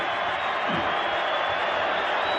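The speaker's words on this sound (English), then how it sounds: "here comes the crowd noise at Rupp" Crowd noise in Rupp Arena during a Georgia versus Kentucky college basketball game: a dense, steady roar from a packed arena, loud and unbroken, with no distinct claps or shouts standing out.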